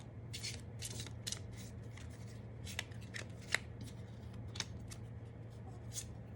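A deck of playing cards being shuffled by hand for a tarot-style reading, with soft rapid riffles and light snaps repeating close by over a steady low hum.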